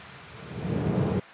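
Thunder rolls during a rainstorm in Paris, a single low rumble that swells over about a second and then cuts off abruptly, with no voices.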